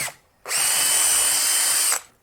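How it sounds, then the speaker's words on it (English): A power drill bores through a thick tomahawk ribeye steak, one steady high-pitched whine lasting about a second and a half, loud and close, with no talking. "We're gonna drill a hole through here so we can get our hooks on and hang this thing."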